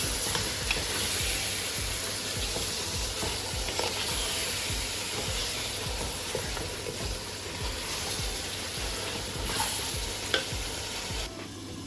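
Biryani with qurbani meat sizzles steadily in ghee in a pot, a loud, continuous frying hiss with frequent stirring scrapes throughout.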